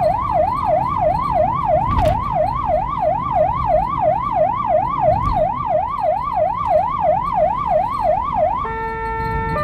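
A loud Hungarian ambulance siren wails in a fast rising-and-falling yelp over road noise, then switches to a steady two-tone blare at the end.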